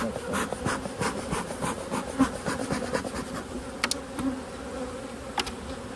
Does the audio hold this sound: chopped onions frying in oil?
no